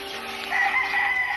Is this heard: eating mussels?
no